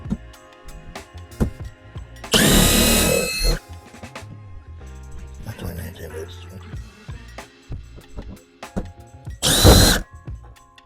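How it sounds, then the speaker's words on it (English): A power drill backs two screws out of the front license plate mount on a BMW X5, in two loud whirring bursts separated by quieter handling noise and some talk. "now what we're going to have to do is take these two screws out"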